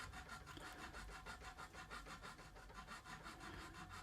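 A file cuts a nut slot on a Gibson Les Paul guitar in rapid, even back-and-forth rasping strokes, steady and close but very quiet.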